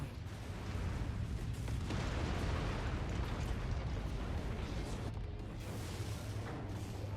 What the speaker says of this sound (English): We're causing just as many explosions as the bad guys are.